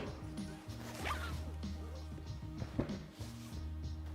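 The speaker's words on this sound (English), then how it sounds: "zip the back of the graphic and tip it right side up" A fabric zipper on the back of a backlit counter display graphic is pulled shut in a couple of quick swishing strokes, close by, with some handling knocks and a steady low hum underneath.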